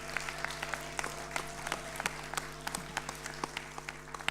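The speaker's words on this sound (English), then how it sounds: "Give yourselves a big round of applause" An audience at a Scottish youth poetry slam applauds the Northfield Academy team, a sustained, moderately distant patter of clapping hands over a low room hum, with individual claps popping out clearly.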